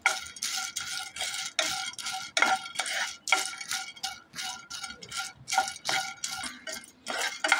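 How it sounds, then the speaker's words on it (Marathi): Cardamom pods dry-frying in a pan over a medium gas flame, stirred so the dry pods rattle and scrape in quick repeated bursts, close and fairly loud with no voices. "ह्याच्यावर आपण ही वेलची टाकून द्यायची आणि 2 मिनिटं फक्त आपण ह्याला फ्राय करायचं आहे मीडियम गॅसवर"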